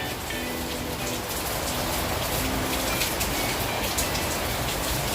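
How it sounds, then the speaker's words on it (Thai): Heavy rain falling outside a house on a hot afternoon, a dense, constant hiss of drops hitting surfaces, steady and loud throughout with no talk. "ฝนตก"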